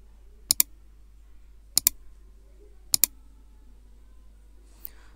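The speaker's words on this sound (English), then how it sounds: "Now what we'll do, we'll click on the start button to see this particular form" A computer mouse clicks the start button in three crisp double-click pairs spaced about a second apart, then one faint single click, in a quiet room with no talking.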